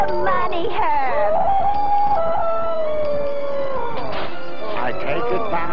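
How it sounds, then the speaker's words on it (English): Dog howling in a long, wavering, sustained wail that rises, holds and slowly falls, loud and up front over a dense background of other sound. "Howl your heart out."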